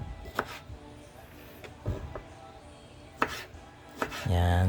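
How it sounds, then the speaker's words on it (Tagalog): Knife slicing tomatoes for a radish salad, a few separate sharp chopping taps on a board spaced over several seconds, close and clear, with a low steady hum rising near the end. "ganyan lang po pag-slice ng kamatis"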